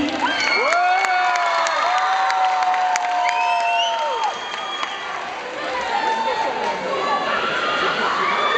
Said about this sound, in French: On les applaudit, on les applaudit.